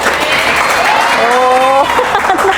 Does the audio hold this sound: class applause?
yes